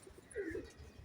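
A pigeon from a pigeon-flying club gives a soft, close coo as it arrives, low and brief over faint background noise.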